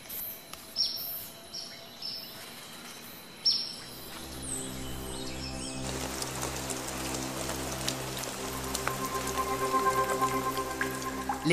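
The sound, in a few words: rain shower falling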